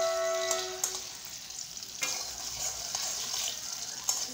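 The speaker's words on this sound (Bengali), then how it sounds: "কচু ভাজা বানাচ্ছি।" Taro frying in a pan gives a continuous soft sizzle, with a faint ringing clink near the start and a few sharper pops and scrapes scattered through.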